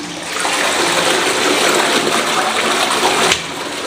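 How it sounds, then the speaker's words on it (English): A toilet in a bathroom flushing, a loud, close, steady gushing rush of water that runs for several seconds, then drops off sharply into a quieter trickle near the end. "This is a toilet. You can see the water coming."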